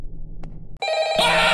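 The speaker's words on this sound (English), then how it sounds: "Oh, it's just a phone." A telephone rings loudly in the Five Nights at Freddy's Melon Playground Edition video game, starting abruptly after a low hum and swelling into a bright, harsh electronic ring, with no talking.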